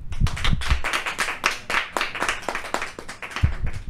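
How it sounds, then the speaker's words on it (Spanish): Applause from an audience at a Catholic talk on ecumenism, made up of distinct, fairly close hand claps in a dense, uneven patter that carries on steadily for several seconds without speech. "Agradecemos la participación de esta carga de fe a Gabriela Villegas con un fuerte aplauso"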